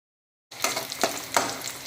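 Onions sautéing in a pan for a chana dal kootu: after a moment of silence, a sudden close sizzle starts, broken by a few sharp stirring scrapes.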